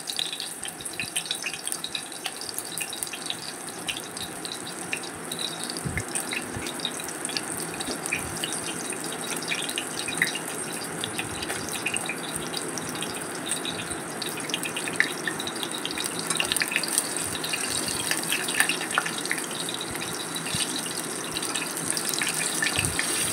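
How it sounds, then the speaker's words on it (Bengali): Sweet pumpkin leaves coated in batter fry in a shallow pan of oil, a steady close sizzling hiss dotted with small crackles and pops throughout. "এবারে আমি তেলে পাতাগুলো ছেড়ে দিচ্ছি।"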